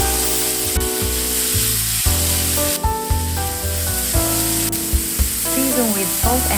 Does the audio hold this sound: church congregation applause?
no